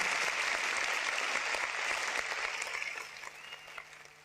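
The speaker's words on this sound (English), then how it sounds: "let's have big applause for our three speakers" An audience at a policy talks event applauds its three speakers: steady, fairly distant clapping that holds for a few seconds, then thins out and trails off into scattered claps, with a faint hum underneath.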